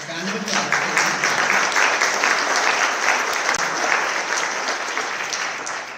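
Audience applause at a Hofstra University nursing pinning ceremony, a sustained crowd of hands clapping steadily throughout, full and even in level from start to finish.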